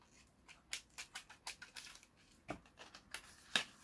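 Small scissors snipping sticky tape on a gift box package, a run of quick crisp snips and clicks at close range, fairly quiet and with no voices.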